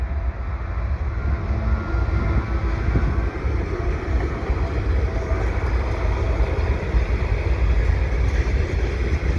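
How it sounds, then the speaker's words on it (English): A heavy CSX freight train rumbles past nearby at Dorval, a steady low roar of locomotives and rolling cars holding for the whole stretch without a break. "It looks like I got the CSX train here."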